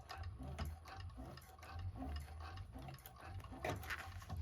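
A 1341 cylinder arm sewing machine back stitches while making a bag, a fast mechanical needle clatter with light ticking that runs steadily and close throughout.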